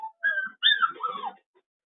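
Young puppies whimpering in a kennel, a few short high-pitched whines and squeaks in quick succession, close and fairly clear with no talking.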